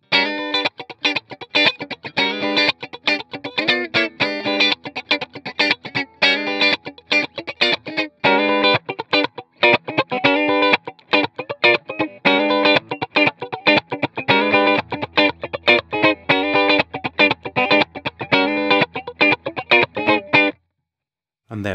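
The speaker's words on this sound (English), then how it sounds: "Now, middle pickup position. This is where you have your sort of funky chords." Fender Telecaster on the middle pickup position plays funky, choppy chords in a tight, rhythmic stream of short strums, loud and upfront, with a brief pause before the end.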